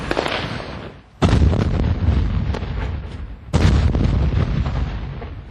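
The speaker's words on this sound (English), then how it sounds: "He decides to call in an airstrike." Heavy airstrike explosions in Fallujah, two loud booming blasts that each roll on into long rumbling decay, close and powerful, no talking.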